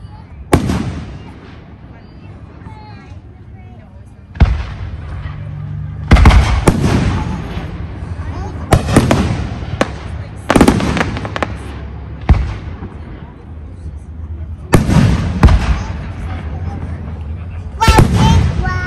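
Canada Day fireworks display with repeated booming bursts every few seconds, loud and fairly close, with crackling tails and people talking and exclaiming between blasts.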